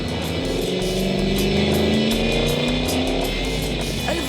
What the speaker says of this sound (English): 200-mile-an-hour rear-wheel drive V8 Coupé.